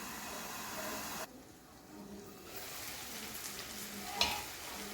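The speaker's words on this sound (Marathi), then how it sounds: "मी आता कांदा आणि टोमॅटो चांगलं शिजवून घेतली." Onion and tomato cooking in a pan for misal, a quiet steady sizzle with a short muffled dip partway through and a soft clink near the end.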